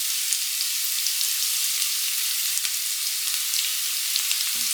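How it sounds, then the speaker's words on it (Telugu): Ginger garlic paste frying in a pan for a dhaba-style egg curry, a steady close sizzle with fine crackling pops throughout and a couple of brief utensil clicks near the end. "అల్లం వెల్లుల్లి పేస్ట్ కూడా కొంచెం వేగిపోయింది"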